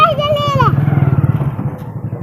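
A motorbike engine putters close by with a steady rapid pulsing beat, after a short burst of someone speaking at the start.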